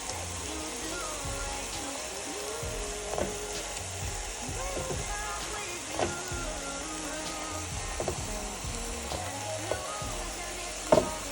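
Burger patties with onion and seasoning sizzle in a hot pan while a potato smasher presses them down, bringing scattered knocks and scrapes over the constant frying hiss.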